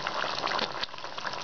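Egg potato curry boiling in a pot: a steady, busy bubbling and gushing hiss of thick liquid on the heat, close and continuous.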